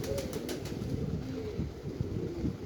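Pigeons coo in a low, rolling murmur close by, with a few quick wing flaps early on, all over a steady rush of gusty wind.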